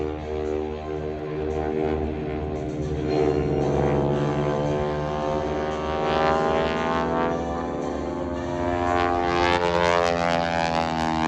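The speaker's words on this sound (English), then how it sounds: "Sets up for his looping maneuver in the Aeroshell Texan." A propeller-driven AeroShell Texan airshow plane flying a looping maneuver, its engine drone rising and falling in pitch as it climbs and turns, loud and steady throughout with no talk.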